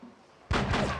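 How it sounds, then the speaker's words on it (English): A sudden loud burst of gunfire erupts in the PS2 action game Die Hard: Vendetta, breaking a quiet stretch, then ringing and rumbling on without pause, close and forceful. "What the hell was that? Hey, Buzz, are you getting this? Gunshots?"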